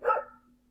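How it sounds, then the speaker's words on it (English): A single sharp dog bark, close and loud, fading into a quiet lingering hum. "that was a dog"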